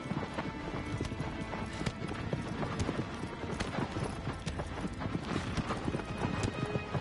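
A horse in the Shadow of the Colossus video game gallops with rapid, continuous hoofbeats and an occasional whinny, fairly faint and steady throughout.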